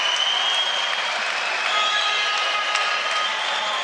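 Judo arena crowd at a Grand Prix tournament in Tbilisi roaring and applauding after a throw, a broad, sustained wall of cheering and clapping that stays loud and even from start to finish.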